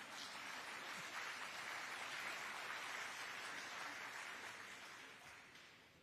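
Clapping from an audience at a book festival in Covai, a soft, continuous wash of many hands heard from a distance that tapers off near the end.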